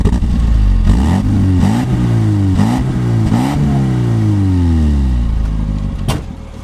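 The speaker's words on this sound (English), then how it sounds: "Let me rev the engine a little bit." A 1999 Classic Mini Cooper, a right-hand-drive car of about 60 horsepower, is revved repeatedly while parked. The loud, close engine note climbs and falls in several blips over steady idle, with no talking.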